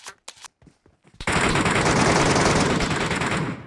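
Sustained automatic gunfire in the mobile shooter PUBG Metro Royale, a loud unbroken burst of rapid shots lasting a few seconds after a brief stretch of quieter clicks and movement.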